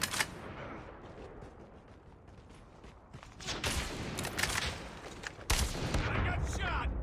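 Gunshots in a Call of Duty match at a world championship event: sharp, scattered cracks at first, then a thicker run of rapid firing over continuous background game noise.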